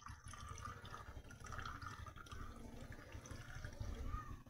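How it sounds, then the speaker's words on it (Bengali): Blended juice strained through a sieve into a container, faint dripping and trickling liquid against a low background hum, continuous and close. "তো একটি ছাঁকনি দিয়ে আমি ছেঁকে নিচ্ছি।"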